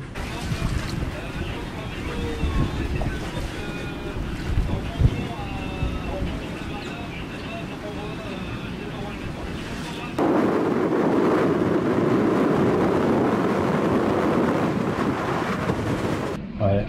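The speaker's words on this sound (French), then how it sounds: "là ça a soufflé à 40 nœuds" Strong wind of around 40 knots roars across a sailboat anchored off Martinique as Hurricane Elsa passes, a dense, steady rush that grows louder and heavier partway through, with voices in the mix.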